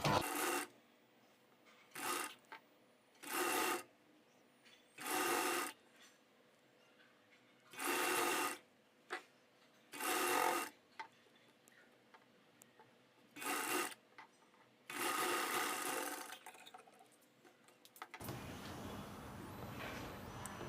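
A sewing machine stitches a blouse seam in repeated bursts, roughly eight short runs of whirring separated by pauses, then one longer run, heard up close in a quiet room.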